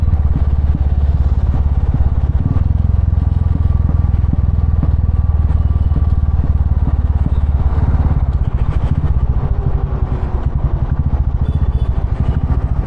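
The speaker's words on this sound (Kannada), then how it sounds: "ಸೊ ರೆಡ್ ರೂಸ್ಟರ್ ಹಾಕ್ಸಿದ್ರೆ ಪಾಪ್ಸ್ ಅಂತೂ ಪಕ್ಕ ಇರುತ್ತೆ ಹೋಗಿ ಥ್ರಾಟಲ್ ಬಿಟ್ಟರೆ ನೋಡ್ಕೊಳ್ಳಿ ಪಾಪ್ಸ್ ಹೆಂಗ್ ಬರುತ್ತೆ ಅಂತ" A Royal Enfield Classic 350 BS3 single-cylinder engine fitted with a Red Rooster exhaust runs steadily with a deep, loud thumping beat close by, a few irregular pops and crackles breaking through near the end.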